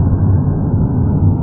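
Loud, steady low rumble and road roar inside the cab of a Chevrolet C10 squarebody pickup cruising on the highway with worn window seals, a continuous dense wind-and-engine drone with no voices.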